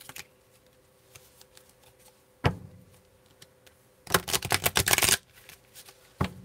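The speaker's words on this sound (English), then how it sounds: "I am going to draw from the Energy Oracle cards" Energy Oracle cards riffle and slap together in a dense, close shuffle lasting about a second, preceded by scattered light card taps and handling clicks in a quiet room.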